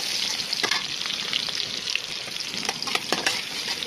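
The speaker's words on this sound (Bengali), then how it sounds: "কড়াইতে তেল বসিয়ে দিয়েছি, এখন পেঁয়াজ, কাঁচামরিচ, তেজপাতা, তারপরে লং যা যা লাগে আমি দিয়ে দিয়েছি" Onion, green chili, bay leaf and cloves fry in hot oil in a wok for khichuri, giving a steady, dense sizzle with soft scraping stir strokes throughout and no voices.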